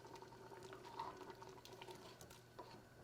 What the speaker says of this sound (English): Beans are now bubbling.